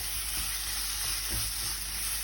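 Masala sizzles in a pan with salt as a spoon stirs it, a continuous close hiss with soft scraping strokes underneath and no voices.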